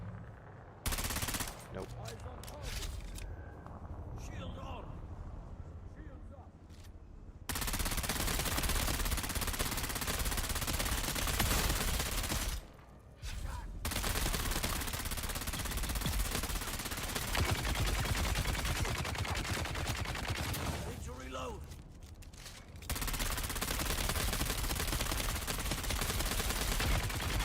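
Rapid automatic gunfire in the survival game Dune: Awakening, long dense sustained bursts broken by brief pauses, with someone speaking briefly between volleys.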